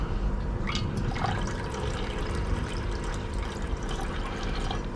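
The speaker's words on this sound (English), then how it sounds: "I'll give it one more rinse." Water swirls and splashes steadily in a glass beaker as gold sediment is rinsed, a continuous close-up liquid wash with small trickles and no speech.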